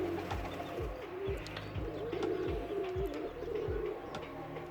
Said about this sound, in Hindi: दोस्तों ये कबूतर है जिसे हम छोड़ने लगे हैं ऊपर से।